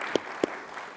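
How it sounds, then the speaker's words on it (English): A few scattered hand claps from an audience at a security partner conference session, two sharp claps close together followed by faint trailing clapping. "Can I get a round of applause for all of our partners real quick?"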